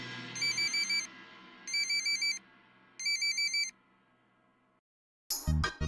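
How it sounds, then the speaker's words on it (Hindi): A mobile phone rings with three bursts of rapid electronic trilling tones over a soft music-like background, fairly close, followed by a brief silence and a sudden loud sound at the end. "आपका फोन बज रहा है।"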